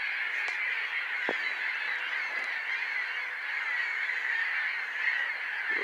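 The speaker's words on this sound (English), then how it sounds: "Aren't these seagulls, aren't they supposed to be near the sea, not near a junkyard?" Many gulls call over a junkyard in open country, a dense, steady chorus of overlapping cries with a few sharper nearby calls standing out against the continuous flock noise.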